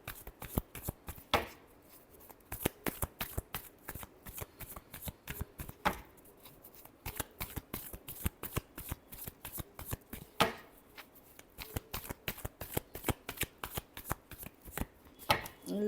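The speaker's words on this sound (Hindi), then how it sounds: "Last shuffle." Tarot cards shuffled steadily by hand during a reading, a dense, close riffle of rapid flicks and soft slaps that carries on for about sixteen seconds with only brief pauses, no talking over it.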